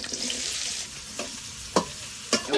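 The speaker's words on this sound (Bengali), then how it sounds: "এবার রসুন পেঁয়াজ মরিচ আমি দিয়ে দেব।" Garlic, onion and chili sizzle steadily in hot oil in a wok, a continuous close frying hiss broken by a few sharp scrapes of stirring.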